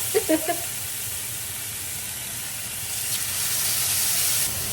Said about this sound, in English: I'm not used to a good sizzle right off the bat.